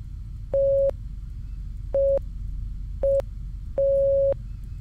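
Four electronic Morse code beeps ring out in the video game First Winter, a pattern of long and short clean tones with brief gaps between them, heard alone over a faint low hum.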